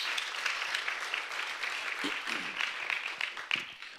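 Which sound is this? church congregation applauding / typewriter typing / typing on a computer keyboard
church congregation applauding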